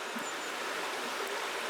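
A river flows past a bridge and ford on a relatively low winter day, making a steady, even rush of water that continues unbroken at moderate distance with no voices.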